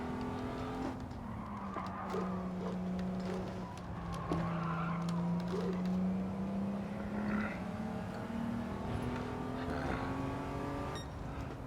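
A race car in Gran Turismo 7 roars up through its gears in rising and falling engine sweeps, with tire squeal and skidding at times and faint talk in the background.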